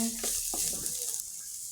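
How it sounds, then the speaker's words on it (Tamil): Cumin, chillies, dried red chillies and grated coconut sauté in a pan for a long bean stir-fry, giving a brief steady sizzle with a couple of quick stirring scrapes near the start. "இப்போது நம்ம திருவி வச்சுருந்த சீரகம் மிளகாய் காய்ந்த மிளகாய் தேங்காய் இதையும் இதில் சேர்த்துடலாங்க நல்லா வதக்கிடலாங்க"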